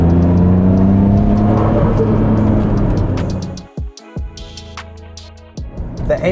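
A Nissan Skyline R34 GT-R Z-Tune engine revs hard under acceleration, a loud, close, sustained roar that suddenly drops off, followed by quieter, uneven engine bursts and whirring.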